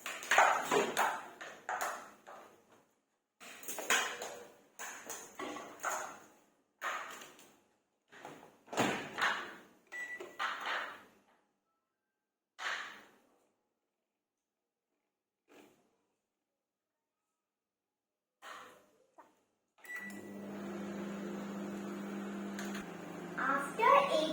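A solo microwave oven heating carrot halwa at full power gives a steady, low electrical hum that starts abruptly after a quiet stretch and continues unbroken to the end, preceded by scattered clinks and handling noises.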